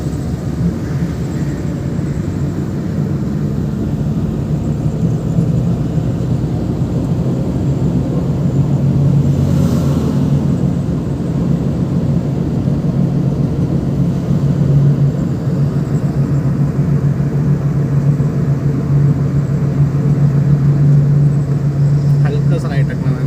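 A car driving along with the clutch pressed and shifted into third gear, a steady low engine and road rumble running beneath continuous talk from people inside.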